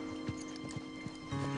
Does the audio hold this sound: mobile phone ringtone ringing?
no